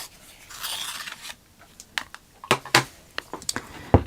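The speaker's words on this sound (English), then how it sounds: "And then I'm going to sharpen the pencil" A coloured pencil is sharpened by hand, giving a soft scraping rasp followed by scattered small clicks and taps, close and quiet with no voices.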